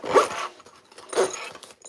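A zipper on a tactical fanny sack is pulled twice in quick, loud rasping strokes, close by, with a pause between them and no talking.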